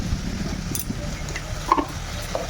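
Spices for a fish curry get stir-fried in a pan, a soft sizzle under intermittent scraping and light clinks of a utensil against metal, close and fairly quiet, with no talking.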